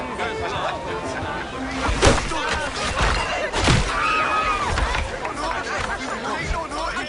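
Crowd chatter and hubbub from a tavern in the pirate-era video game Assassin's Creed IV: Black Flag, a steady babble of many overlapping voices with a couple of louder swells.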